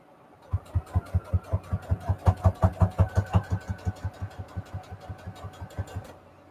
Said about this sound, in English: I want to sew this part down.